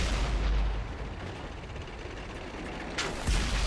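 Tank cannon fire in the World of Tanks video game: booming blasts over a dense battle rumble, with a sharp loud shot near the end.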